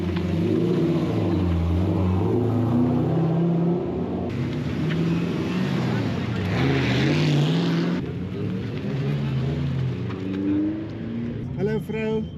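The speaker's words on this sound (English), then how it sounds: "There's an 86 here that sounds absolutely impeccable." A Toyota 86 drift car idles and revs loudly at close range at a drift event, its engine note rising and falling steadily with other car and crowd noise around it.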